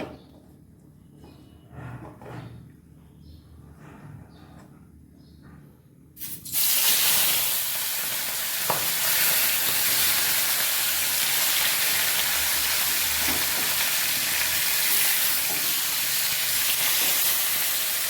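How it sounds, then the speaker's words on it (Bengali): A fish head rubbed with salt and turmeric dropped into hot oil in a wok, quiet handling noises first, then a sudden loud, crackling sizzle that roars on steadily. "মাছের মাথাটার মধ্যে নুন হলুদ মাখা শেষ হয়ে গেছে, এখন আমি এটাকে ভেজে নেব"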